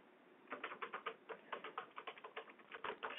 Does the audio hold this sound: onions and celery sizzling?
no